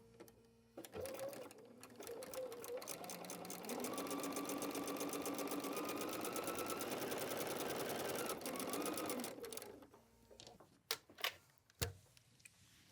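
A sewing machine stitches fabric along a line for a quilted autumn door banner, whirring fast and steadily in a rapid mechanical chatter for several seconds, then slowing and stopping, followed by a few sharp clicks and handling knocks.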